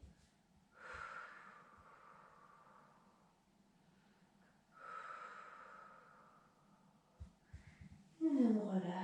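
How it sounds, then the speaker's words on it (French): Three slow, deep breaths taken during a stretching exercise, each a soft, airy inhale-exhale heard close up in a quiet room, followed by a louder rustle at the end. "3 grandes respirations."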